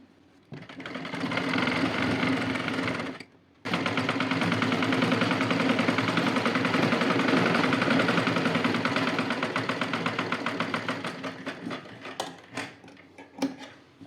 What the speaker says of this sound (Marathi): आता इथं वरून शिलाई मारून घेऊ आपण